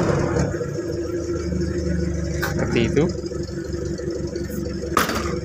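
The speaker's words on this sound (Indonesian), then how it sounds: "Suara mesin dari Suzuki Jimny yang sudah sering kita perlihatkan di channel ini juga." A 1982 Suzuki Jimny engine idles with a steady, low rumble from close by, continuous throughout, while someone talks over it.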